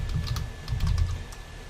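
Keys clatter on a computer keyboard in a run of quick, uneven taps, close and fairly quiet, entering a command at a command line with no voices.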